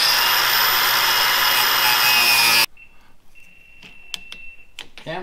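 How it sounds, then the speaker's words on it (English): A tool cuts through a fuel line near the fuel filter on a rat rod wrecker, starting with a loud, steady, broadband grinding or sawing noise, then stopping abruptly. After it come quieter scattered ticks and a faint whine. "Cutting this fuel line."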